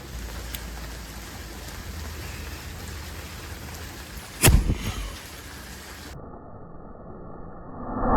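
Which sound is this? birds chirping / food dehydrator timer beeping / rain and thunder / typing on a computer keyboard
rain and thunder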